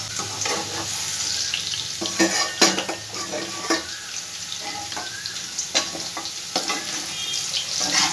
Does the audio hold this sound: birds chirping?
no